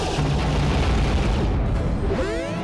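A smart bomb detonates in the Star Fox Assault video game, a loud, dense booming blast that fills the whole moment, with sweeping tonal effects rising near the end.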